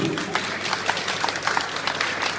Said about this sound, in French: C'est énorme, ça s'applaudit.